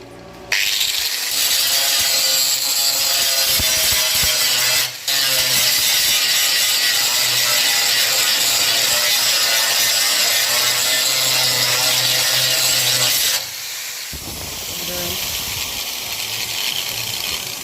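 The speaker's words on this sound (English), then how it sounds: "Alright, quick go with the grinder." A grinder cleaning up metal on car chassis rails during fender and plenum support plate work, loud and close, whining and rasping continuously for about thirteen seconds with one brief dip, then cutting to a quieter hum.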